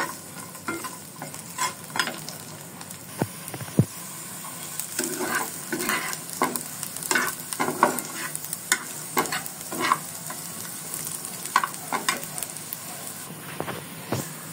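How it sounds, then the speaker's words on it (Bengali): Halved whole garlic cloves fry lightly in hot oil with a steady crackling sizzle, broken by frequent sharp scrapes and clicks of stirring against the pan; no voices. "এই রসুনগুলো এখন হালকাভাবে ভেজে নেব"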